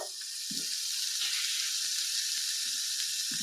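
Onion dropped into a beef stew pot and sizzling, a steady bright hiss with a few soft stirring knocks underneath.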